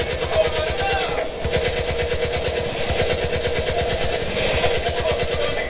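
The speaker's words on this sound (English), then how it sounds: "You wanted me to have a turret?" Turret machine gun firing in the video game Far Cry 5: sustained rapid automatic bursts, loud and close, rattling on continuously with only brief pauses between volleys.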